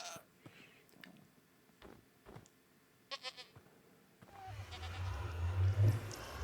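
Goats bleat in the Minecraft video game, giving a few short, separate calls over quiet ambience before a louder rumbling wash of game sound takes over.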